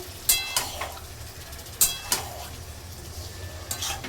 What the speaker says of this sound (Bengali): এখন কষাতে থাকি এটা ভালো করে